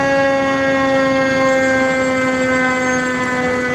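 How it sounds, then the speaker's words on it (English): A loud, steady ambulance siren wails continuously with a slowly falling pitch, sustained and close, with no voices over it. "There's the ambulance, and that's the paramedics."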